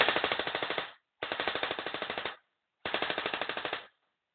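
Three bursts of full-auto fire from a UMP45 airsoft gun, each a rapid, even mechanical rattle lasting about a second, with short gaps between them, close and loud.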